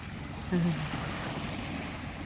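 Sea waves wash steadily at a beach resort at night, a continuous broad surf roar with light wind and a brief low murmur near the start.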